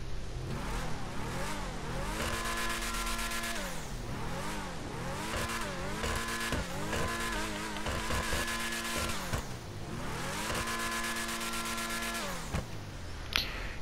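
Principe Deveste Eight supercar in GTA 5 Online, its engine revving hard in repeated rising and falling surges, loud and close with a steady roar throughout and a brief pause near the end.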